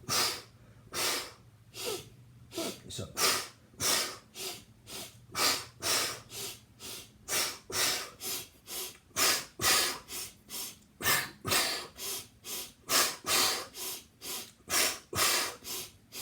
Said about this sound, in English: Exhale, exhale, inhale, inhale.